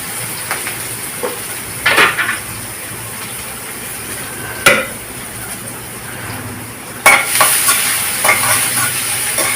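Onions and banana stem stir-frying in a pan, a loud continuous sizzle with several bursts of stirring and scraping, close up and with no voices.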